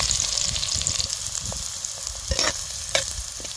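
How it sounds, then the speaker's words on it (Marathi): Cumin and finely chopped onion tempering in a ladleful of hot oil for a dried bombil curry, a close, busy sizzle with scraping stir strokes and a few sharper crackles, no voices. "त्यासाठी एक पळीभर तेल ओतलंय थोडंसं जिरं टाकायचं बारीक चिरलेला कांदा टाकायचा"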